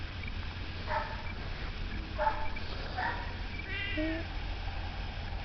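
A shy cat sunning itself in a Western New York berry garden gives several short meows spaced a second or so apart, with a longer wavering meow near the end, over a low steady outdoor hum.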